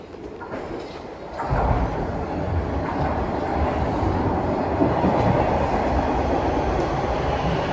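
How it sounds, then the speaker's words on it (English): A northbound Toronto TTC subway train rolls into Davisville station, a loud sustained roar of wheels and motors building after the first second and holding steady, with faint squeals and clatter on the rails. "here comes the northbound train"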